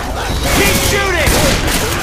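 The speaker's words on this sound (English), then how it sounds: "Keep shooting!" Dense, loud gunfire in the zombie shooter Left 4 Dead 2, a continuous roar of shots and game noise with tonal, voice-like sweeps mixed in.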